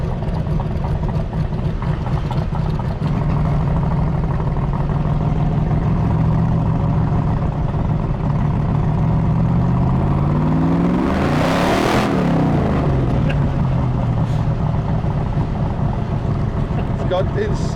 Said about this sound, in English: Got insane acceleration.